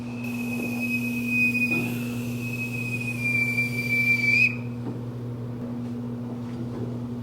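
A boatswain's pipe pipes the side at a US Navy senior chief's retirement ceremony: one long, shrill, steady whistle held for about four seconds, then cut off, leaving a low steady hum.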